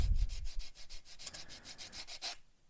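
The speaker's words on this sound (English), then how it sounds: "Do need to do here is just give it a light sand just here" Light sanding of a glued plastic model kit part from a Hobby Boss M1070 and M1000 Oshkosh HETS truck build, with about a dozen short, evenly paced scratchy rubbing strokes close by, then it stops.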